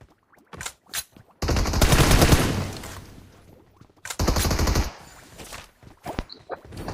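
Automatic M4 rifle gunfire in the battle-royale game BGMI, two loud sustained bursts of rapid shots separated by a pause, with scattered lighter clicks and footstep-like sounds around them and no talking.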